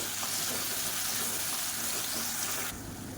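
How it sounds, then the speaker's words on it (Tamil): Chopped tomatoes added to small onions sautéing in a pan for sambar, giving a steady, close sizzle and frying hiss throughout. "மீடியம் சைஸாக ரெண்டு தக்காளி பொடியாக கட் பண்ணதை சேர்த்துக்கலாம்"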